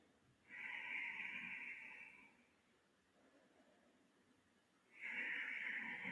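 Two slow, steady breaths during a yoga session, each a long airy exhale, with a quiet pause between them; close and fairly soft, with no talking.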